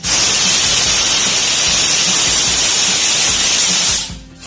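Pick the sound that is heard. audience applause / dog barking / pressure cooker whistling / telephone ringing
pressure cooker whistling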